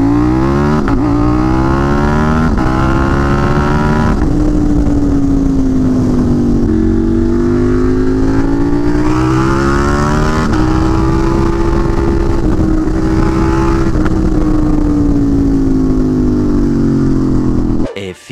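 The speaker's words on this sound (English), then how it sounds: "Two loudest bikes probably in existence." Very loud motorcycle engines roar up close, a constant heavy drone whose pitch swells and falls as the throttle is blipped, dominating throughout.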